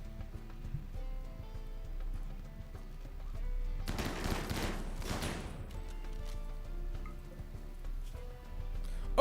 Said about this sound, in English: I think they're just trying to shoot my wall down with shotguns.